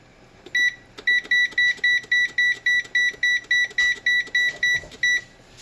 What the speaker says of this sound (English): I'm going to set the timer to 15 minutes